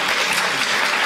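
Audience applause after a talk at a film discussion event, a dense steady wash of clapping filling the whole short moment at close, loud level with no voices over it.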